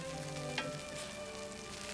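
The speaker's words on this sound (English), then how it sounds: "as soon as you start to hear the sizzling" Steady, even sizzling of onions in hot olive oil, a continuous crackling hiss with a faint clink of a utensil partway through.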